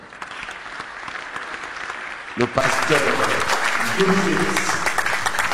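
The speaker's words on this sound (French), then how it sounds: "Applaudissez pour mes pasteurs là." A church congregation bursts into loud applause for its pastors partway through, the clapping swelling and staying dense under a preacher's voice speaking over it.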